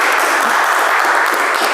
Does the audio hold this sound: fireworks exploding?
no